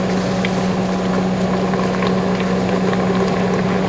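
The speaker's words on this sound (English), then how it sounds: "We got the water just boiled." A pot of water at a full boil for cooking spaghetti, a steady rolling bubbling roar with a low hum, loud and constant throughout with no talking.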